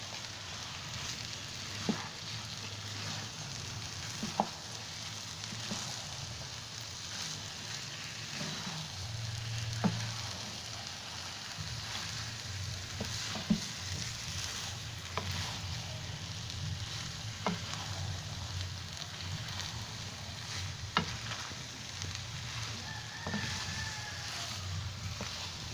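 Onions fry in a pan for a poppy seed salan, with a steady, moderate sizzle throughout and occasional sharp spatula clicks and scrapes as they are stirred.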